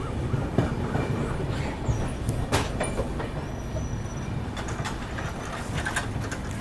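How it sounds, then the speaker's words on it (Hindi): A Humsafar express train rolls onto the loop line at Sonipat Junction, a steady close rumble of wheels on rails with occasional clicks over joints and faint squeals, no voices. "अपनी ट्रेन को लूप पे डाला जा रहा है सोनीपत पे"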